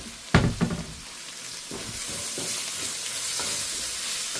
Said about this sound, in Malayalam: വെളിച്ചെണ്ണയിൽ കിടന്ന് ഈ മുളക് പൊടിയും കൂടെ ഒന്ന് മൂത്ത് വരുമ്പോഴത്തേക്ക്